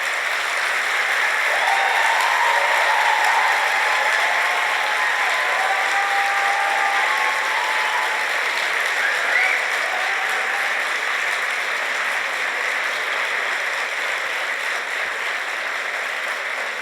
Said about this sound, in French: vais juste diffuser les applaudissements sans la phrase d'avant.